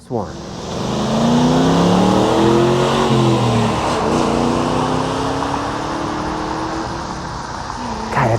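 A 1999 Ford Mustang Cobra accelerates hard past the listener, the engine revving loudly as it nears and then fading as it pulls away.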